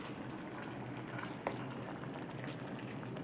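Ground pork folded together with two sauces simmers in a pan for zha jiang noodles, giving a steady bubbling, sizzling hiss that stays even throughout, with one small pop partway through and no talking.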